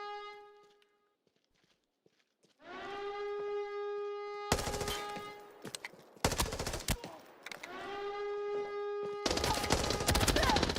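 Rapid automatic gunfire in a shooter game, loud bursts of fire cutting over a rising siren-like whine, with short pauses between volleys and near-continuous shooting at the end.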